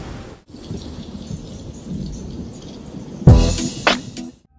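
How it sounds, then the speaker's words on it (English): Steady rain hiss with low rumbling, then a sharp crack of thunder rolling loudly near the end before fading out, part of a recorded song. "The rain, the thunder."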